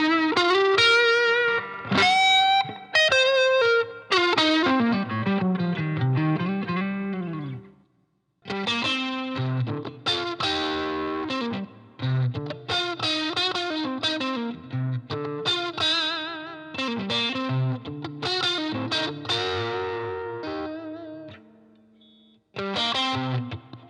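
A John Mayer Fender Stratocaster is played on its neck, 2 and 4 pickup positions through effects with distortion and chorus, giving bright, sustained solo phrases and bends separated by short pauses.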